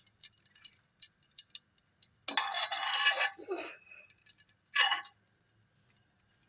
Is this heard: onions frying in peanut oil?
yes